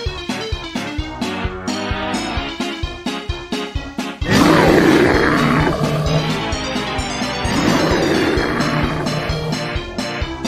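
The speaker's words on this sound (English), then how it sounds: "Bear." A bear lets out a deep, broad roar that starts suddenly partway through and carries on loudly for several seconds over rhythmic background music.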